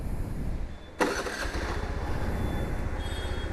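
A TVS Zest 110 2025 scooter with an OBD E20 engine starting: a sharp starter burst, then a steady low idle hum running to the end, close by with no talking.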